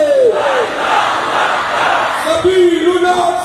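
A large crowd at a Palestine solidarity rally in Pakistan chants slogans loudly, a roaring mass of voices with a leader's shouted calls rising above the throng, close and continuous.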